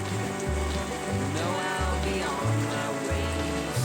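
Rain falls steadily on an umbrella outdoors during a campfire cooking session, a dense continuous hiss with a low rumbling hum beneath it.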